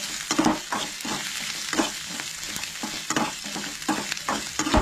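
Garlic, ginger and chillies roast in a pan for a Goan-style mud crab curry. A continuous, fairly loud sizzle runs throughout, with rhythmic scraping strokes as the mixture is stirred.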